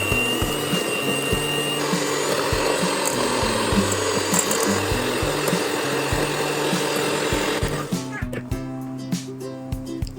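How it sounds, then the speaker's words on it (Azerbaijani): An electric mixer whirs steadily as it beats three eggs with a cup of sugar until pale, a loud continuous drone with rhythmic knocks, then it cuts off near the end, leaving clattering bowl sounds. "Qaba 3 yumurta, 1 stəkan şəkər tozu əlavə edib ağarana qədər qarışdırırım"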